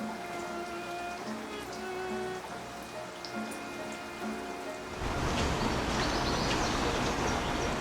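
Steady rain falls on a street, a continuous hiss of drops that grows noticeably heavier and louder halfway through, with faint tonal hum in the background.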